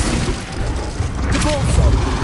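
Spell explosions from Bombarda and Confringo in Hogwarts Legacy, a loud rumbling blast and crackle swelling toward the end, with a voice talking over the combat.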